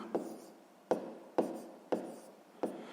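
A pen or pencil writes numbers on paper for a sixth-grade maths exercise: five sharp taps spaced about half a second apart, each trailing into soft scratching, close and quiet, with no voice.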